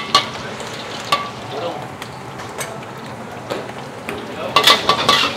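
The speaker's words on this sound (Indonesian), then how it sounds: "Gua bakal bikin nasi goreng seafood sebanyak 2 porsi" Seafood fried rice with squid is stir-fried in a pan, the sizzle running steadily while a spatula scrapes and clinks against the metal in sharp bursts, louder toward the end.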